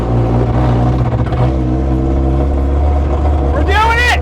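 Moonshine-fuelled car driving in second gear, its engine droning steadily and close throughout, with a rising whine near the end and voices talking over it.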